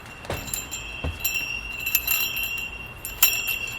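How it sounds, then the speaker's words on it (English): An old spiked-wheel garden weeder with six small pointy metal wheels jingles like sleigh bells, giving bright, close metallic rattles and tinkles in uneven bursts as it is shaken or rolled, with a few sharper clinks standing out. "Sounds like sleigh bells, but it's actually meant for weeding a garden."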